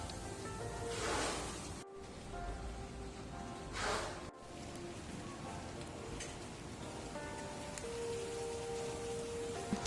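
Steady rain falls outdoors in miserable weather during stray cat feeding, a soft, even hiss with faint pattering, fairly quiet and continuous, with a couple of brief swells.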